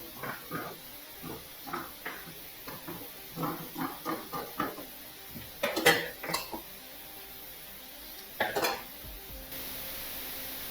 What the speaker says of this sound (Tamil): பேக் பார்ட்டு கட் பண்ணிகிட்ருக்கோம்.